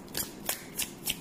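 Tarot cards are shuffled by hand in quick soft riffles, four brief crisp bursts close and quiet with no talk.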